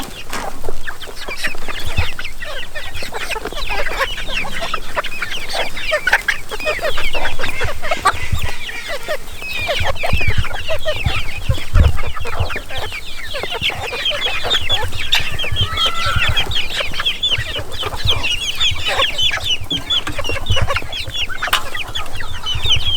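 A large flock of video game chickens clucks and squawks continuously for over twenty seconds, a dense, busy, loud chorus of overlapping calls with no talking.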